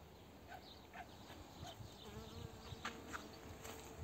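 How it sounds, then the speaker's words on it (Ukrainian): Bees buzz around flowering bindweed in a garden, a soft continuous hum with faint insect whines drifting in and out over quiet outdoor ambience. "Бджоли біля ужини."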